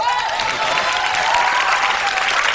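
Studio audience at a French television comedy show applauding: steady, dense, loud applause filling the whole stretch with no pauses, and a faint voice tone mixed in underneath.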